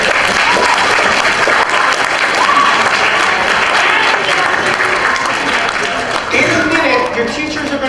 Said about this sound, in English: Would you clap for yourselves?